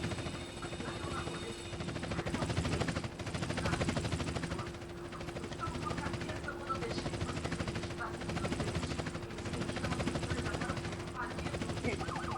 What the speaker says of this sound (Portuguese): Deixa eu descer o helicóptero do meu patrão aqui,